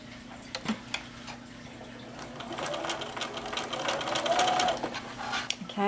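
A sewing machine stitches a fabric potholder, whirring in short runs with rapid needle ticking that rises in the middle and end, close and fairly loud, with faint background noise.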